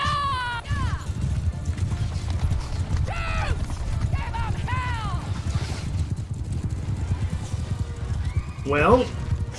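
Horse archers' mounts thunder along in a Bannerlord battle, with dense, continuous hoofbeats close up and several sharp neighs and whinnies rising over them, while voices shout throughout.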